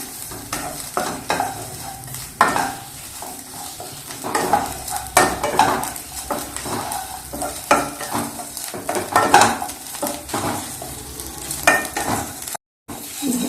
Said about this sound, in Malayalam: ഇത് വറുത്ത് നമ്മുടെ വറവായി.